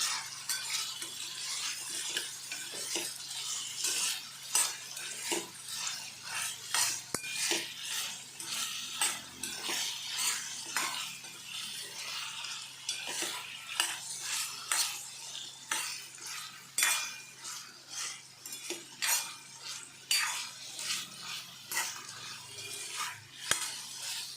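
Eggplant and potato pieces sautéed in oil in a pan, heard as a soft sizzle under frequent metallic scrapes and clinks of a spatula stirring in an uneven rhythm, close by and without voices.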